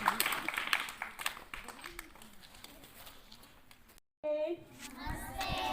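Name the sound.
applause welcoming a doctor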